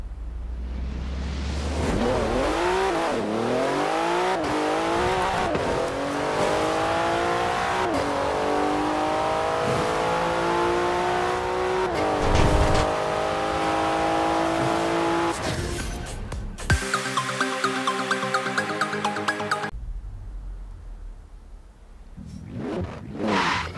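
A Porsche 911 Turbo S in the racing game Forza Horizon 4 at a drag event, its engine revving loudly and climbing through repeated gear pulls, with tire squeal and a sharp burst of rattling near the end.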